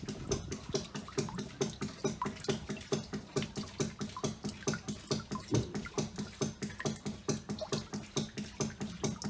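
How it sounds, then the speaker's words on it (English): Water from a ram pump surges into an aquaponic delivery tube in steady, rhythmic pulses a fraction of a second apart, a soft, close splashing flow that repeats without pause. "let's wait until the water start fill into the tube"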